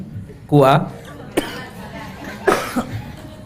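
A man coughs sharply a few times, short harsh bursts spaced out over a few seconds, close to the listener.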